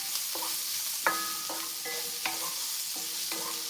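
Onions and garlic fry in a pan for Egyptian sogo sausage, making a soft, constant sizzle. Sharp metallic spoon taps and scrapes ring out every half second or so, close by, with no talking.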